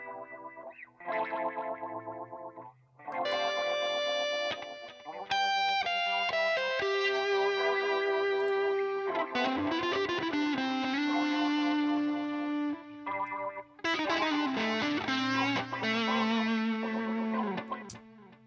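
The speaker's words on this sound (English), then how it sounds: "this is one of the better auto wah sounds that I've heard in plugin format" Electric guitar played through an auto wah effect from the AmpLion Pro amp plugin, distorted sustained chords and single notes sweeping in tone, with pauses between phrases, loud and alone.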